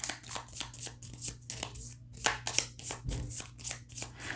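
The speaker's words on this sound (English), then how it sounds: "I don't look at the card. I just move it 2 piles forward." Playing cards being handled and slid between piles during a solo tabletop session of the Five Nights at Freddy's: Survive Till 6AM board game, giving a series of close, soft papery taps and shuffles in an uneven rhythm.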